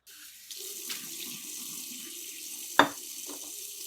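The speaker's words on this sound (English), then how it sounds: "I'm going to rinse it off." A water tap runs steadily into a sink while a plant is rinsed off, a constant close hiss of flowing water with a sharp knock near the end.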